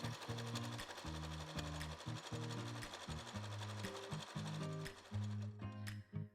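A regular domestic sewing machine stitches a lettuce hem on stretchy fabric, running in fast, steady mechanical bursts with a rhythmic needle clatter and short stops and restarts, close and continuous throughout.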